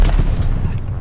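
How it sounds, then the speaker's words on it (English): Heavy airstrike explosions in the Call of Duty video game rumble as a dense, loud barrage of low booms filling the whole moment, with no talking over them. "Friendly sending an airstrike."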